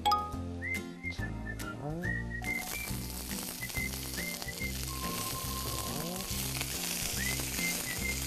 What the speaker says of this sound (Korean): 이제 아까 데쳐놓은 브로콜리를 넣어볼게요